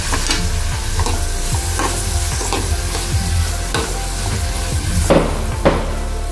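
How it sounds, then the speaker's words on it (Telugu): Onions, green chillies and curry leaves fry with salt in a pan, a loud close sizzle with repeated scraping stirs of a spoon throughout. "ఉల్లిపాయలు తొందరగా ఫ్రై చేయడానికి దీనిలో కొంచెం సాల్ట్ వేసుకొని ఫ్రై చేసుకుందాం."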